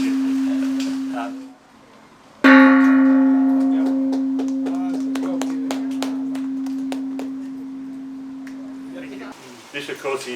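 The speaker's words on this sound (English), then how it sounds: "This, of course, is the Australian World Peace Bell" The Australian World Peace Bell, a replica of the peace bell, sounds in Cowra with a short tone, then one loud strike that rings out in a long, slowly fading hum with bright overtones, followed by light background noise.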